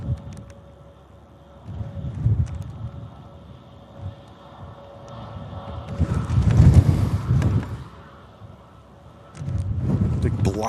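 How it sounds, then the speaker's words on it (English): Big gusts of wind buffet the microphone at Manchester Airport, low roaring surges that swell and fade in waves over a faint steady hum, with no talk. "Big blast of wind ripping through the airport there."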